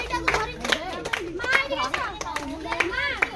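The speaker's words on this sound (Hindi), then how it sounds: "ताली दिया ताली दिया" Hands clapping at a child's birthday party in a village home, quick uneven claps mixed with children's and adults' voices chattering over them close by.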